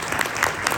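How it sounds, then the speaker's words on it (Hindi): Audience at a program applauds loudly, a dense burst of clapping that carries steadily for under a second. "भरपूर तालियों में उनकी हौसला अफजाई करिए"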